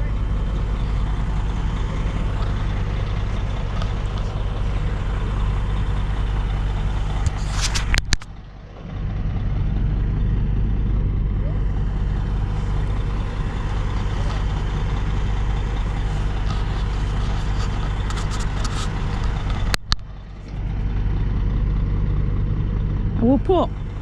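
Diesel engine powering a twister fairground ride during a fair build-up at Crowcroft Park, a steady loud low rumble running throughout with two brief sharp breaks, voices faintly mixed in.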